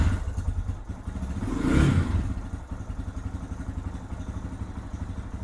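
A Lifan KPX 250 dual-sport motorcycle starts with a rising burst, then settles into a steady, close, loud idle with a rapid, even putter and light mechanical clatter.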